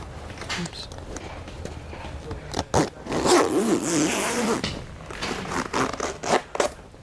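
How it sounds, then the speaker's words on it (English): Open-ended zip on a Kingfisher Eclipse kayak cover being drawn closed in a few quick ratcheting pulls, close and fairly loud, with brief rustling of fabric around it. "Start your open-ended zip"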